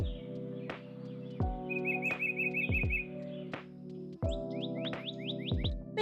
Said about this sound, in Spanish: cuando dice aves piensa inmediatamente en sonidos parecidos a esto